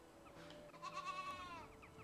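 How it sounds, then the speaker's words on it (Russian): A goat in the farming game Medieval Dynasty gives a single wavering bleat over soft ambient game sound, moderately loud and close. "Коза?"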